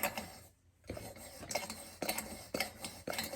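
A freshly oiled pump on a Coleman lantern being worked by hand, giving a steady run of about five rhythmic scraping, squeaking strokes, close and fairly quiet.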